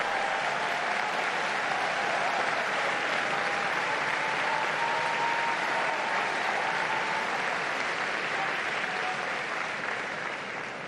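Sustained, even applause from the audience at Pope Leo XIV's first press conference, a meeting with media professionals. Dense and steady for the whole stretch, with a few voices rising faintly above it.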